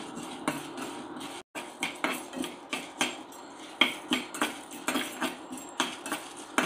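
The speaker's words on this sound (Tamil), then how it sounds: "வாசனை வர வரைக்கும் நல்லா வறுக்கணும்." Curry leaves dry-roasting in a pan while being stirred with a metal utensil for karuvepillai kulambu, a steady run of sharp scraping clinks and taps against the pan at an even rhythm, close and fairly loud, with no talk.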